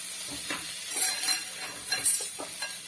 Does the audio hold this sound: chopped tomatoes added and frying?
yes